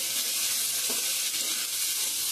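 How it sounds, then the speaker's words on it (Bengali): Spices and ingredients for khichuri frying in a pan on a home stove, giving a steady close sizzle with a soft stir partway through. "ভালো করে ভেজে নেব।"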